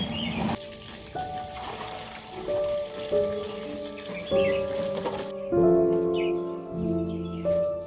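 Water running from a tap outdoors into a container, a continuous splashing flow broken by a pause, with a rising ringing tone as the vessel fills and birds calling in the background.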